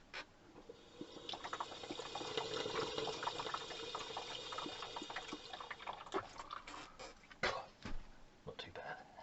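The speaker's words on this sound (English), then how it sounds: "That side of the radiator you can see has just got a bit of residual water, so I'm just draining it off into this bowl." Residual water drains from a radiator into a bowl during removal, a steady trickle and splash that runs continuously, with a few sharper knocks and clinks toward the end.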